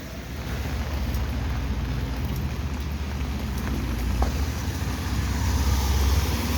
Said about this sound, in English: Like I said, it is a rainy afternoon.